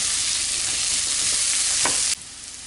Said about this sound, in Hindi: अब हम इसमें करीब 1 चम्मच बड़ा चम्मच लहसुन डालेंगे, मिर्ची डालेंगे और इनको अच्छे से पकाएंगे